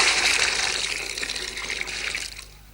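Water from a fire hose sprays in a continuous loud hissing gush that tapers off near the end.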